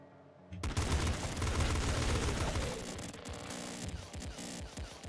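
Rapid automatic assault rifle fire from the video game Nuclear Throne, with three weapons firing at once, pours out in a loud, dense burst after a brief quiet start and keeps crackling with sharp, overlapping shots throughout.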